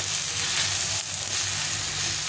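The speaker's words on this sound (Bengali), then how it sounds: "এইভাবে সবগুলোকে ভালো করে ভেজে নেবো, একবারে ভেজে নেবো।" Vegetables for shukto fry in a pan with a steady, bright, close sizzle that holds evenly throughout, hissing without pause and with no talking.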